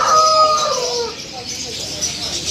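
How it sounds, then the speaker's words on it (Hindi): White roosters crowing at a busy bird market, loud and close, with clucking fowl and a steady crowd murmur behind. "वाइट मुर्गे"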